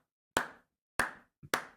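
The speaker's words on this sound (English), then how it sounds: "This is the part of the movie where you get a slow clap, like in Hoosiers." Three sharp, isolated hand claps spaced slowly about half a second apart, each with a short decaying ring, plus a softer tap just before the last clap.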